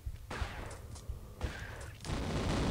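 Shotgun blasts fired in a Tomb Raider video game, several loud broadband bursts in quick succession with brief gaps, the last shot ringing out into the clip's end.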